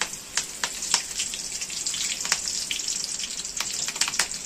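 Curry leaves hitting hot oil with a tomato, onion and garlic paste for veg dum biryani: a close, steady crackling sizzle with sharp pops and spatters throughout.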